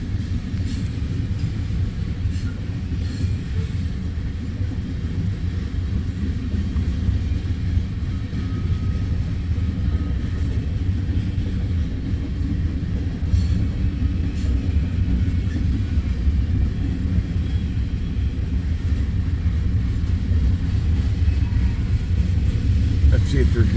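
A freight train runs from Council Bluffs to Bailey Yard across Nebraska and Iowa, making a steady, heavy low rumble that holds continuously and evenly loud throughout.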